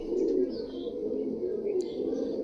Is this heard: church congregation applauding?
no